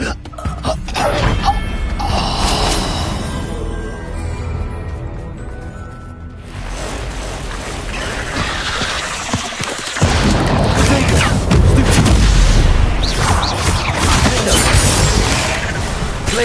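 Confringo fire-blast spells crack and boom amid a busy Hogwarts Legacy wizard duel, mixed with other spell effects and combat noise, with a heavier, louder burst partway through.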